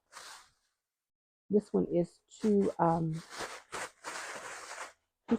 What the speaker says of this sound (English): I'm going to place a plastic bag over the top of this.